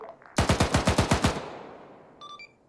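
Machine gun fire in a military video game, a close loud burst of about nine rapid evenly spaced shots fading into a short echo, then a fainter brief burst near the end.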